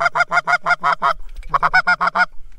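Geese honk loudly near a duck and goose hunting blind in Alberta, two close bursts of rapid repeated honks separated by a short pause.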